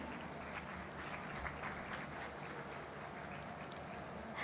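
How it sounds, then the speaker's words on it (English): Hall applause for Dr. Adnan at an international conference on world religions, a soft but steady, dense clapping from a seated crowd, continuous and distant-sounding, with no talk over it. "A round of applause for Dr. Adnan"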